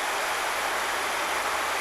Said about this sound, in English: That's the waterfall that feeds Joffrey.